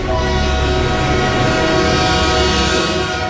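A train approaching, loud continuous rumble of rolling carriages with sustained horn tones layered on top, steady throughout without voices.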